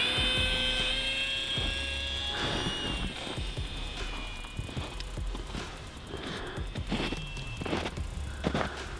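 A small Eachine P-47 RC plane flies overhead in a snowy setting, its high electric motor whine steady and fairly close, with scattered crunching and handling noises underneath.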